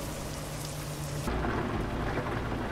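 Euro Truck Simulator 2 thunderstorm: steady loud rain with a rumble of thunder rolling in halfway through, no voices.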